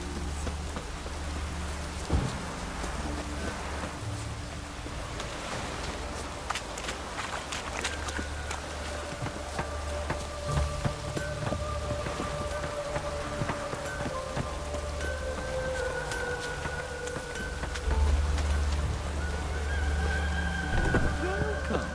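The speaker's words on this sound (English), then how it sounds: "It just rains and rains." Steady rain hissing over a scene in the video game The Witcher 3, a constant wash of drops under footsteps, game music and ambient effects.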